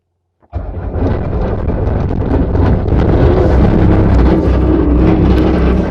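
A Bobcat T190 skid steer starts abruptly and runs with a loud, dense rattling roar from a broken fan drive motor, steady and close throughout after a brief silent start.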